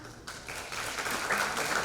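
Applause builds quickly from a few claps into a steady round of clapping from a crowd, continuing at a moderate level.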